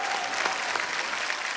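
A studio audience at a comedy talk show claps steadily, a dense even wash of applause with no pauses across the short stretch.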